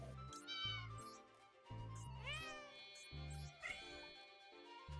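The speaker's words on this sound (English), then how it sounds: "It even comes with meowing sound effects." Cat meows from a hidden-cats puzzle game set in Berlin, several distinct meows one after another, each with rising, wavering tones over a steady low game music background.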